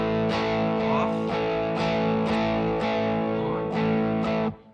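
An electric guitar with distortion and the reverb effect switched off plays a series of strummed chords, about eight sharp attacks in a steady rhythm, dry and upfront, ending abruptly.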